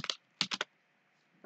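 Computer keyboard keys tapped in a Control Shift O shortcut while coding: a quick pair of clicks, then a tight cluster of three, close and crisp, with a faint tap at the end.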